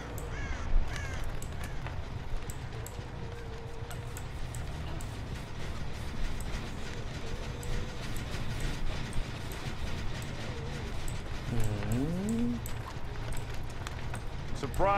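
In the horror game Dead by Daylight, crows caw intermittently over a constant murky ambient hum. The calls are moderately faint and scattered across the scene, with one clearer rising caw near the end.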